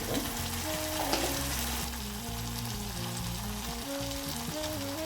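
Chicken marinated for dhaniya chicken frying in a pan, a soft continuous sizzle with light stirring scrapes under steady background music, no talk.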